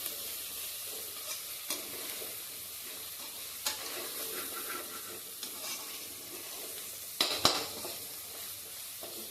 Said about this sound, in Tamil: இஞ்சி பூண்டு பேஸ்ட் போட்டோன்னே அடி பிடிக்காத மாதிரி நம்ம கலரி விட்டுருக்கோம்.